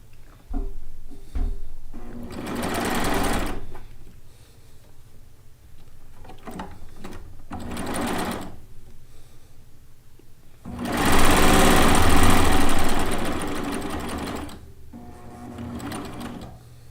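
A sewing machine stitches chenille quilt pieces in several close bursts of fast mechanical whirring and needle clatter, separated by quieter pauses, the longest run near the end.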